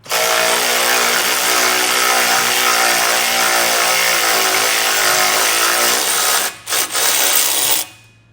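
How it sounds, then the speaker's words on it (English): A power tool loosens a bolt on the frame of a 2021 Jeep Wrangler, one loud continuous whirring run close by that cuts out briefly near the end, then resumes and stops. "But the first thing we'll do is loosen this bolt up."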